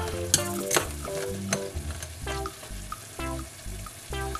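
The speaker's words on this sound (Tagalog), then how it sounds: "Ilalagay ko na yung instant noodles." Instant noodles stirred in a pan with soy sauce and oyster sauce, a close sizzle broken by repeated scraping and clattering of a utensil at an irregular pace, with no talking.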